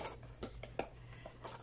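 A stainless cutlery set of sixteen pieces, spoons, forks and teaspoons, clinks in a few short metallic taps and rattles as the pieces are handled close by, with quiet room tone between.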